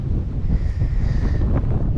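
Icy wind gusting across an open, sunny coastal spot in Denmark, a steady loud rumble buffeting the microphone throughout with no voices.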